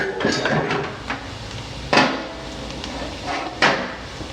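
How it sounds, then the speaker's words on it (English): A pan used for frying bacon is moved to the sink to drain the grease, with several sharp metallic clanks and knocks and no talking. "I'm going to go ahead and move this over onto the sink because I'm going to get rid of the bacon grease."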